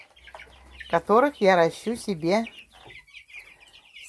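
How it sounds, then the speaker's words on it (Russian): Bielefelder roosters cluck in a backyard flock while someone talks close by over them, the clucks coming in short bursts around his voice. "А здесь у меня мои вот какие уже петухи белефельдеры."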